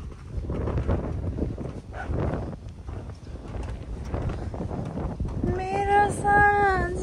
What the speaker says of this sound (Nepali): होइन होइन हावाले होला त्यस्तो फिल भएको